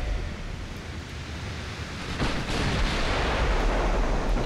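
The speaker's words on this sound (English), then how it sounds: "Get all the guns firing." Battleship main guns firing in Ultimate Admiral: Dreadnoughts during a WW2 engagement, Tennessee against Nelson, a loud rumbling broadband roar that swells midway into a heavier, sustained boom with a noisy, surf-like wash.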